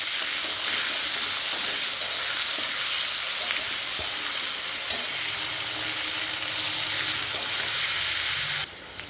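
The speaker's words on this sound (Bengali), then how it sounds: "আলু পটলটা ভালো করে ভাজবো" Potato and pointed gourd frying in a pan with salt and turmeric, a dense continuous sizzle with occasional stirring scrapes, close and fairly loud, cutting off abruptly near the end.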